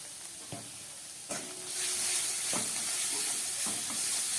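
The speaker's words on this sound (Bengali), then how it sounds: "আদা পেঁয়াজ নুন হলুদ দিয়ে আমি মশলাটাকে কষাচ্ছি।" Ginger, onion, salt and turmeric spice paste sautéing in a pan for a fish curry, a steady loud sizzle and hiss with occasional scraping stirs, no talk.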